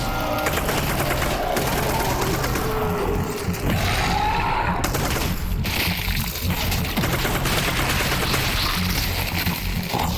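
Rapid gunfire from a powerful gun in the VR game Half-Life: Alyx, dense repeated loud shots filling the whole stretch over a busy game soundscape.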